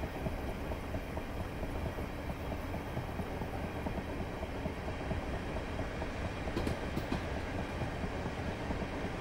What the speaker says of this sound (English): Train coming the other way.